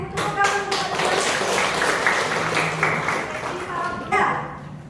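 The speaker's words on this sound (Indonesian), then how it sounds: "tepuk tangan untuk Kalisa." A small classroom group claps briefly, the applause steady for a few seconds before fading out, with voices mixed in.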